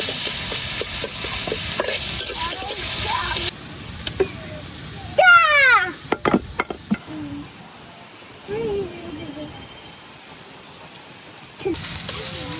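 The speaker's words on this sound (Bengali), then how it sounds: "পেঁয়াজগুলা হালকা নরম করা পর্যন্ত ভাজলাম" Onions frying in a little oil in a village kitchen on a rainy day, a hissing sizzle that comes and goes with clattering stirs, bird chirps and a voice briefly heard in the background.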